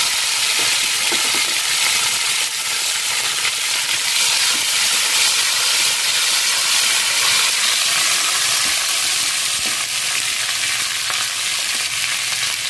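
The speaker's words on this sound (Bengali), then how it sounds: "দেখুন ফোড়নটা হয়ে গেছে, আমি এর মধ্যে এবার টমেটো কুচি দিয়ে দেবো।" Chopped tomato hitting hot tempering oil for a Bengali fish curry, giving a loud, steady, close sizzle and frying hiss that runs unbroken throughout with no talking.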